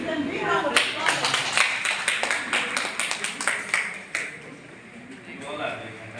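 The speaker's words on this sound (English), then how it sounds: "I think we should give them big round of applause" Group claps for award-winning teachers at a school event, a burst of distinct, fairly close hand claps that thins out and trails off after about four seconds.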